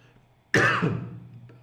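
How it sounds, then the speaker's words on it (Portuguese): A single loud throat-clearing cough bursts out close by, rasping and then trailing off, with no talking around it. "Rematar aqui a tosse."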